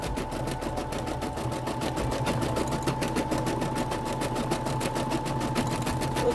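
An embroidery machine stitches a heart design with a fast, even mechanical patter and a steady motor hum, close and continuous throughout.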